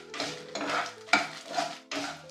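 Dried red chillies being tossed in a pan for sesame gongura chutney: repeated bursts of stirring and scraping with metallic clinks of a spatula against the pan, close and fairly loud, over a light sizzle.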